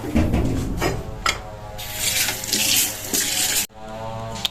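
Water runs from a kitchen tap into the sink in a loud, steady rush, with the flow changing as items are rinsed under it, then breaking off briefly before returning.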